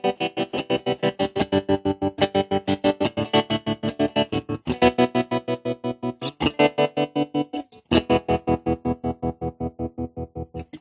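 An electric guitar chords through a MadeByMike Saltshaker tremolo pedal in square-wave mode, which chops the sound on and off in rapid, even pulses, distorted and continuous throughout.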